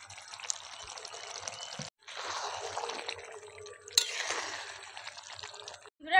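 Half a spoon of garam masala and a little ghee go into a pot of potol chingri (pointed gourd and prawn curry), giving a close, steady sizzling, liquid-like hiss that breaks briefly near the two-second mark and then carries on.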